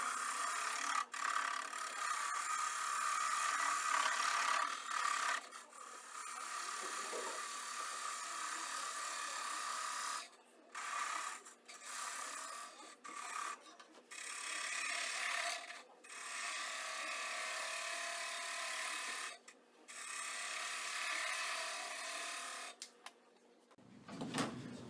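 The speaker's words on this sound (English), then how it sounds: "I'm going to use me a parting tool," A parting tool cuts a tenon into a wooden pepper mill blank spinning on a lathe, giving a continuous close rasping scrape that breaks off in several short gaps as the tool lifts away, with a faint voice at times.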